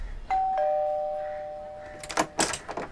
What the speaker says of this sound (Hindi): घंटी की आवाज सुनकर निशा ने दरवाजा खोला।